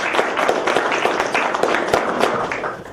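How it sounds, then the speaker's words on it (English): An audience claps for a volunteer, a dense burst of applause with many hands at once, steady and fairly loud throughout. "everybody give a round of applause for Elizabeth."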